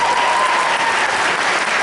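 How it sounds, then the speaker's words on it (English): Dense, even applause from a convention audience at an opening ceremony, loud and continuous throughout with no voices over it. "Let's give him the applause for that."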